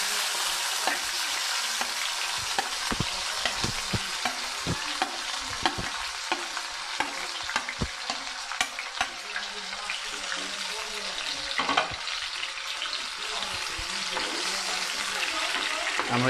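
Onions and tomatoes fry in a pan on a live cooking show, a continuous bright sizzle with frequent sharp clicks and stirring scrapes throughout, close and steady.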